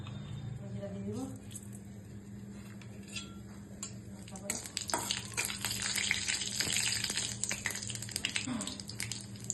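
Cumin seeds hitting hot oil in a heated wok set off a steady close sizzle that swells louder and busier about halfway through, with a voice talking faintly underneath.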